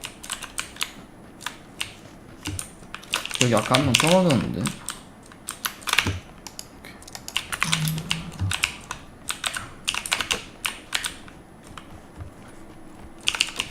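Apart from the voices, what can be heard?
typing on mechanical keyboard with blue switches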